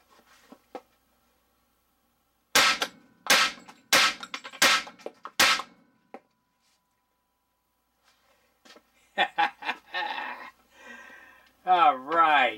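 Five sharp, loud reports in quick succession from a Hi-Point 10mm carbine striking a half-inch AR500 steel plate outdoors, followed by a pause and then someone talking.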